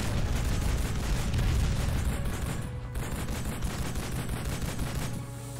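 Sustained burst of mounted machine gun fire in the Call of Duty 2 campaign, the Oran mission in North Africa, loud and dense for several seconds, with a brief dip in the middle before the rattling continues.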